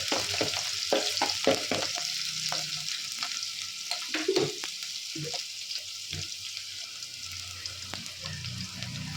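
Green chillies and garlic sizzle and crackle in hot oil while a spoon stirs and scrapes the pan, steady frying hiss throughout with irregular close clacks, no talking, for leadi greens egg masala.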